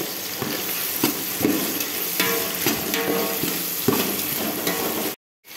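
Curry leaves fry in hot oil for a large batch of tomato rice, a loud continuous sizzle and crackle with a few stirring scrapes, ending suddenly.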